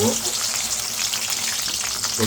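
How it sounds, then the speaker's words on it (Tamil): Okra frying in hot oil gives a loud, close, continuous sizzle with crackling spatter throughout, for a spicy tamarind curry being prepared. "எண்ணெய் காஞ்சிடுச்சு. இப்போ வெண்டைக்காயை போட்டு"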